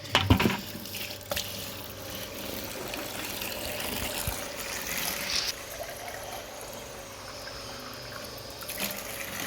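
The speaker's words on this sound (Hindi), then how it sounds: "धोना पड़ेगा सबमर्सिबल पानी से।" Water from a submersible pump gushing and splashing while rinsing muddy soil outdoors, a steady close trickling and pouring flow with a few louder splashes at the start.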